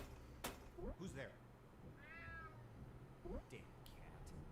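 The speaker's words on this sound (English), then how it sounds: "Damn cat." In-game cat from the stealth game UnMetal lets out a drawn-out, wavering meow in the middle, framed by brief footsteps and thuds; a voice talks faintly around it.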